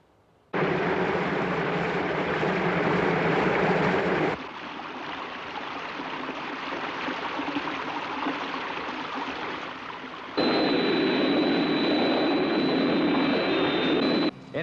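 Thunderbird 1 from Thunderbirds flies with a loud, sustained jet-engine roar that shifts in tone twice, the last stretch adding a thin high whine before it cuts off.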